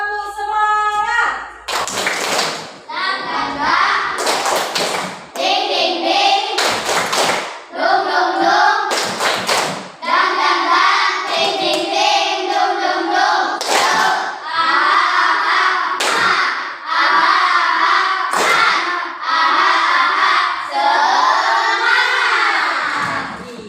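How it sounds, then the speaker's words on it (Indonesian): A classroom of students does a rhythmic spirit clap, bursts of sharp group clapping alternating with loud chanted voices in a repeating pattern, led by a female teacher, close and energetic throughout. "Ayo, tepuk semangat."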